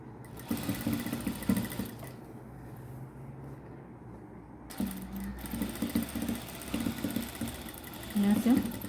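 Domestic sewing machine stitching lace onto a dupatta, running in short steady bursts with pauses between, close and moderately loud, with someone talking over it.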